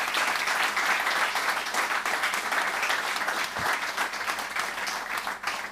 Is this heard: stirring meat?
no